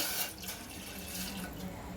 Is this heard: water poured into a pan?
yes